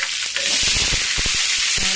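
Curry leaves, green chillies and onions frying in a pan: a loud, close hiss with a burst of sharp crackling and spitting pops, brief and continuous with no talking.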